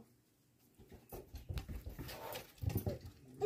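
A dog lets out soft, intermittent whimpers and whines in a quiet room, faint at first and then clustering in short bursts near the end, with some shuffling and pattering movement around it and no talking.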